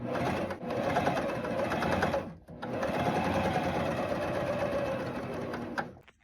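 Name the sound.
Janome cover stitch serger sewing top stitching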